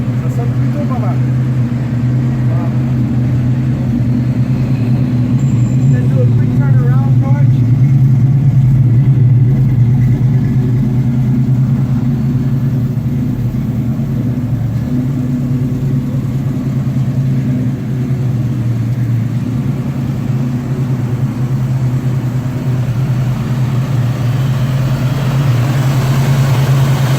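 A 1966 Ford Mustang with the code A engine runs at a steady idle, giving a loud, constant, low drone that holds evenly throughout with no clear revs.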